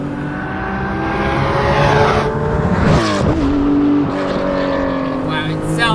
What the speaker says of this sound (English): Wow, it sounds like a race car.